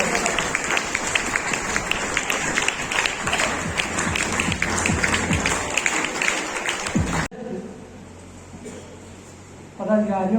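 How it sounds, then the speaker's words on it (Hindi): Loud, dense applause from a large crowd at an awards ceremony for students and teachers in Dhamtari, India, for about seven seconds, then it cuts away to quieter room sound and a voice. "जोरदार तालियों से इनका सम्मान करें"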